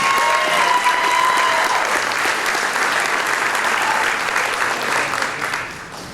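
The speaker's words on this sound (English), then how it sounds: "Let's give them a big round of applause." Steady, dense applause from an audience at a junior high school family event, loud and sustained throughout before easing slightly near the end.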